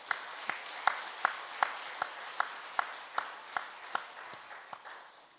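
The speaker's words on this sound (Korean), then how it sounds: "우리 시온 찬양대의 감사와 하나님께 영광의 박수 올려드리겠습니다" A church congregation claps after a choir's hymn, with sharp, evenly spaced claps ringing out in a steady rhythm over a soft wash of scattered hand noise in a reverberant hall.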